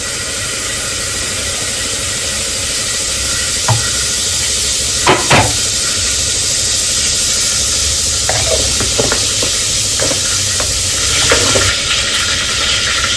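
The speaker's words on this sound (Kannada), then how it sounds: "ಸೊ ಆಯಿಲ್ ಹೀಟ್ ಆಯಿತು. ಈಗ ಅದಕ್ಕೆ ಸಾಸಿವೆ ಹಾಕ್ತಾ ಇದ್ದೀನಿ." Mustard seeds splutter in heated oil with a loud, constant hiss, a few distinct pops and crackles scattered over the dense sizzle.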